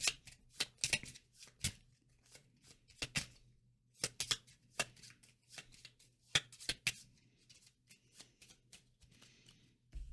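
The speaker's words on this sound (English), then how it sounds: "Now we shuffle our discard pile." A discard pile of board game cards is shuffled, with a rapid series of sharp riffling bursts and soft slaps in irregular rhythm, close and fairly quiet over a faint steady hum, with no talking.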